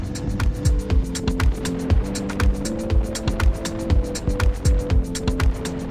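A Husqvarna 701 adventure motorcycle being ridden: a steady engine hum with a rhythmic, pulsing beat repeating every second or so, close and fairly loud, with no talking.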